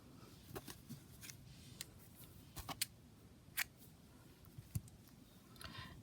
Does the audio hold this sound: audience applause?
no